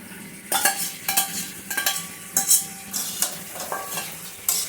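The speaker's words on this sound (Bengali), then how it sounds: "সবগুলো উপকরণ একসাথে ভালো করে মিশালে চিড়ের পোলাও তৈরি" Cashews, raisins, peanuts, paneer, potato and carrot get stirred into chira pulao in a pan, with a low sizzle and repeated scraping spatula strokes about every half second, loud and close.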